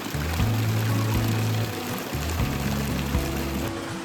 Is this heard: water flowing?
yes